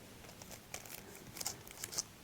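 Soft crinkling and rustling of plastic packaging handled during a quiet Nintendo Switch 2 unboxing, a few light, close crackles and taps over a low background hiss.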